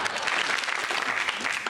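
A comedy studio audience claps through a mock political speech, a short burst of dense, steady applause heard from within the crowd.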